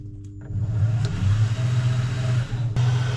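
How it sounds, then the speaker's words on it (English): A valve seat cutter machining the seat of a Vauxhall 2-litre XE Red Top cylinder head: a motor spins up after a brief quiet start into a steady, close mechanical whir and rumble with a sharp click near the end. "start to wind the machine down so it just starts cutting the seat, and listen for the seat cutter"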